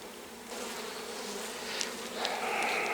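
Honeybees buzz steadily as they are moved from a log hive into a new hive in March, a dense droning swarm close by that thickens and grows louder toward the end, with no voices.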